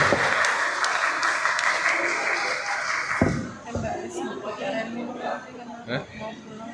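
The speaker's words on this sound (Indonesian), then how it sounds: "Tepuk tangan." Audience applause at a health product launch event fills the first few seconds, then fades out as a voice starts speaking and murmured chatter and a few scattered sounds follow.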